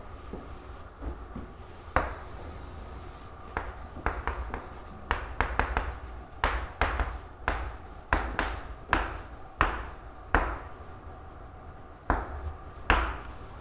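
Marker strokes squeak and tap against a board in irregular bursts, some quick and clustered, others spaced apart, close and fairly loud with no talking.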